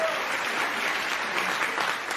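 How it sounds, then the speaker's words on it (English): A crowd claps steadily and densely through the whole stretch, an even wash of applause with no voices standing out. "Stop clapping."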